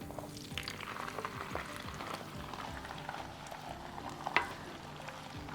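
Beans tipped into a pan with garlic for pelut fregit, a soft continuous frying sizzle and crackle with light stirring and a brief clatter near the end, fairly quiet.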